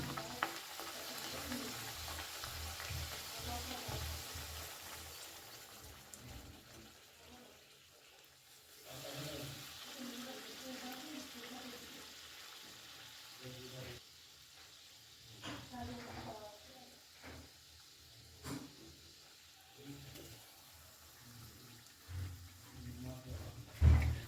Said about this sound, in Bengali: এবারে আমি একে একে এই কচুরিগুলো ভেজে নেব গ্যাসের ফ্লেমটাকে এই সময় হাইতেই রেখেছি